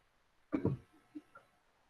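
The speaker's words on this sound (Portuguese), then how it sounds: "É que eu estava aqui tossindo também." A short burst of coughing, two quick close coughs followed by a couple of faint softer sounds, in an otherwise quiet room.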